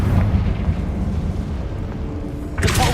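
A Confringo fire-blast spell in Hogwarts Legacy goes off as a loud, rumbling burst that fills the whole moment, with a sharper crackling flare near the end.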